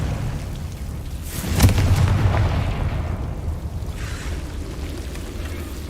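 The Confringo blasting spell is cast in Hogwarts Legacy, a sudden fiery burst with a rumbling boom that fades over a couple of seconds, followed by a softer whoosh.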